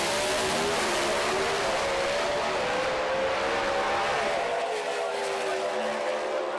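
Pro Stock drag race cars roar past at full throttle, a loud dense engine howl that holds steady, then thins and fades as they pull away.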